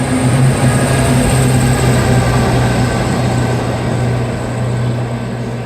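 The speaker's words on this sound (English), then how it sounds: "One of the service trains." A service train rumbles through Newton Abbot station, a loud continuous roar with steady engine hum throughout, slowly easing as it passes.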